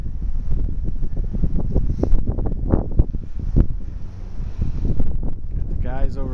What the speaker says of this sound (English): Wind's starting to pick up again.